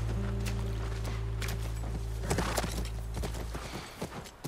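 Horse hooves clip-clop irregularly over a low steady hum in the video game The Last of Us, with scattered close knocks growing denser midway and then thinning out.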